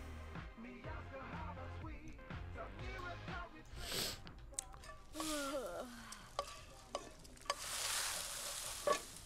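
Cooking in The Sims 4: stirring, sizzling and clattering kitchen effects in short bursts, fairly quiet, with brief voice-like sounds mixed in.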